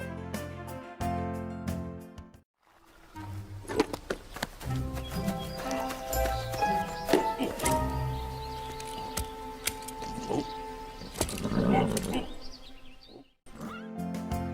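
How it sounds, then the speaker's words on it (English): Horse hooves clip-clop steadily with occasional whinnies and snorts, fairly close, amid a busy background of other animal and ambient noise. "Horse is a farm animal and very beautiful animal."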